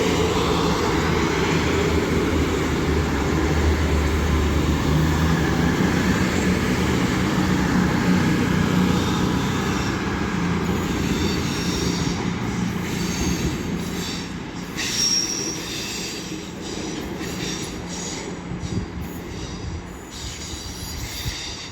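A train passes at Stafford with unit 221106 at the rear: loud rumbling and clattering wheels with squealing, the roar fading gradually toward the end as the rear unit moves away.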